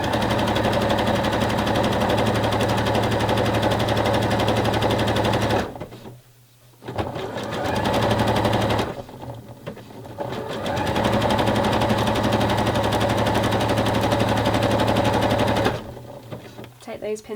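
A sewing machine runs in long steady bursts, stitching stretched elastic onto fabric for a wrap-around style bra, with brief pauses between runs; the motor hum is loud and close.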